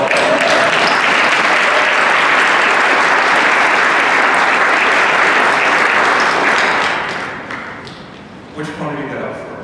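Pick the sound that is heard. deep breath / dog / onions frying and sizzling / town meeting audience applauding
town meeting audience applauding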